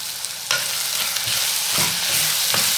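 Vegetable pulao with bagara masala and cashews being stirred in a hot pan, a steady sizzle broken by a few scraping strokes of the spoon, close and alone.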